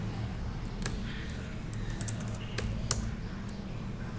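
Scattered clicking keystrokes on a computer keyboard over a low steady hum, irregular light taps close by with no talk.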